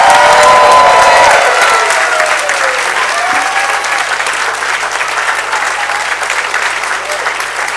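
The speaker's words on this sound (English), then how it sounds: "Do give them a huge round of applause." An audience at a school concert gives loud, sustained applause that fills the room and fades only slightly, with a few scattered cheers and voices underneath.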